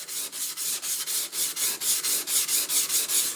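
Chef knife with a forged feather pattern blade being sharpened on the coarse side of a whetstone: rapid, even back-and-forth scraping strokes, about four per second, close and steady with no talking.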